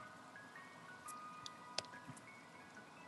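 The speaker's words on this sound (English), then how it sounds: "Ice cream truck. You hear it?" An ice cream truck passes outside, its chime melody faint and distant, a few thin tonal notes drifting over a quiet background with a small knock partway through.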